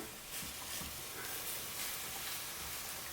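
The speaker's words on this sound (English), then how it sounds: "we're going to add some chopped onion. Stir that in." Chopped onion being stirred into venison mince for spaghetti bolognaise, giving a steady close sizzle of frying with a few soft stirring scrapes and no talking.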